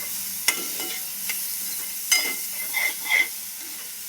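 Vegetables for Chinese rice sizzle in a pan, with a constant frying hiss broken by several louder scraping stirs of a spoon.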